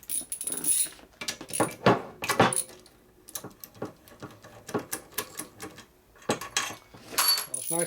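A wrench loosens bolts on a custom Harley-Davidson Twin Cam motorcycle engine, producing bursts of close metallic clicks and ratcheting rattles separated by short quiet gaps.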